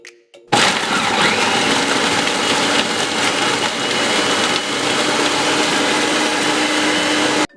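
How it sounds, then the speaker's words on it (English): A food processor blends frozen berries and bananas at full power, a loud, steady grinding whir with rattling chunks that starts abruptly after a brief pause and runs continuously before cutting off at the end. "Blend everything in your food processor."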